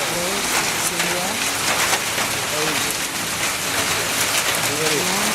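Heavy rain with hail pelts a surface in a steady, dense roar that continues without pause throughout, with faint bird calls breaking through here and there.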